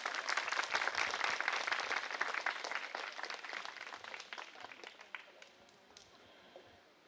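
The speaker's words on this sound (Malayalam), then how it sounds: "അപ്പോൾ ഒരു ക്ലാപ്പ് വന്നാൽ നമ്മൾ നിർത്താം." Audience applause closing a talk on the social importance of the fire service at a literary festival, a dense steady clapping that thins and fades toward the end, with a few scattered late claps.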